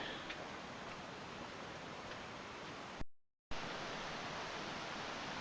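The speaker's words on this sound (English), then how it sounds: "We can hear a lot of water gushing here" Steady, loud broadband rush of water gushing over rocks near the top of Cataract Falls on a bush walking track, continuous and close, with a brief dropout partway through.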